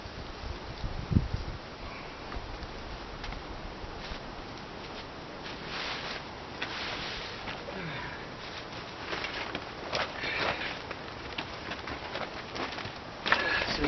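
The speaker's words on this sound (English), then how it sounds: "It's very gusty out here." Gusty wind blows outdoors beside a greenhouse being set up, rising in rough, rushing surges that swell and fade over a constant breezy hiss.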